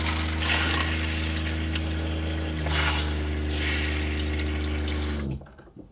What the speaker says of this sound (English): now I can turn the water pump back on and I can give it a try